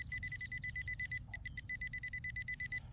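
Metal detector signalling a penny or dime target in the ground during a coin hunt: a steady, rapidly pulsing electronic beep tone that repeats for several seconds, briefly breaking up midway, over a low outdoor rumble.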